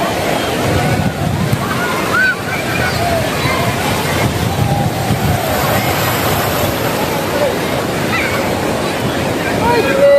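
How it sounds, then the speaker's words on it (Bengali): Loud, continuous surf as sea waves wash and break nearby on New Digha beach, a steady roar of churning water with wind, and a voice speaking over it at times. "কি ঢেউ আসছে।"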